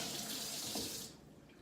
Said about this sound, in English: So I like to just rinse it with some warm water.